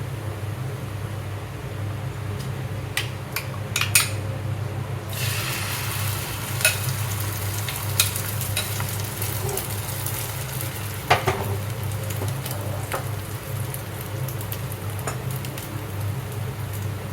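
Coconut oil heating in a hot pan while cooking micro beans gives a steady sizzling hiss, with a few sharp clinks and stirring scrapes scattered through; no talking.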